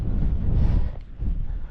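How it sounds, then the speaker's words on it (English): Wind blows across a Dartmoor tor, buffeting the microphone with a deep, rumbling roar that dips briefly in the middle and then surges again, with no talking. "It's getting windy."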